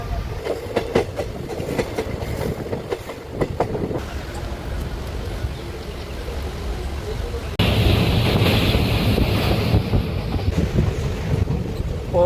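A train runs on rails on a Silchar to Guwahati journey: a continuous rumble with clacking wheel beats, heard from inside. Passengers talk beneath it, and the noise swells louder partway through.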